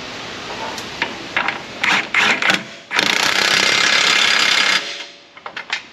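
Power tool bursts tightening front suspension bolts on a Ford Explorer 4.6 during a front end rebuild: several short rattling hammering pulses, then a long sustained loud run, trailing off into small clicks.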